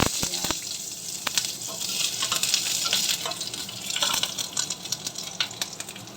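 Onions fry in a little rice bran oil, sizzling steadily with clinks and scrapes of stirring, the frying hiss rising and falling close up with no one talking.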